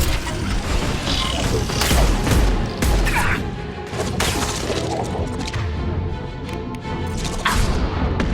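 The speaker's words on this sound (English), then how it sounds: "Taking heavy fire!" Dense, continuous gunfire and crashing impacts from a firefight in the video game Mass Effect 2, loud and cluttered throughout, with in-game voices shouting over the din.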